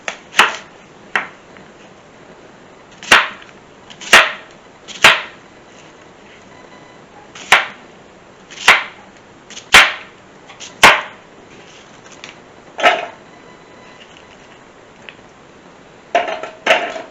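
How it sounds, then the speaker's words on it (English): A knife chopping onion and other vegetables on a cutting board while roasting chicken in a Bundt pan: sharp, separate chops with irregular pauses, close and clear against a quiet background, with no talking. "Let's cut up some vegetables and let's make it happen"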